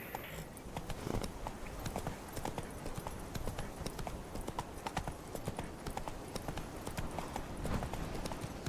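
Roach, the horse in The Witcher 3 video game, gallops with a rapid, steady clip-clop of hooves, close and continuous, over a faint outdoor game ambience.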